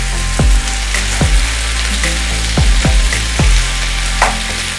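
Breakfast food fries in a pan while being tossed with paprika. A loud, steady sizzle is broken by several sharp clanks and scrapes as the pan is shaken. No one talks.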